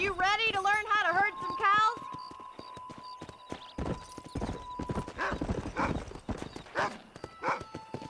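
Horses in Red Dead Redemption clip-clop in steady, close hoof beats while cattle are herded, with a loud whinny early on and a brief spoken line over the hooves.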